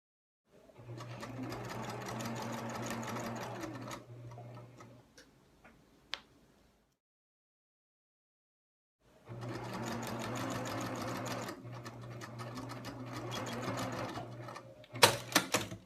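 Sewing machine stitching a tote bag, two sustained runs of fast rhythmic ticking clatter with a low motor hum, separated by a quiet gap with a few small clicks, close up with no talk.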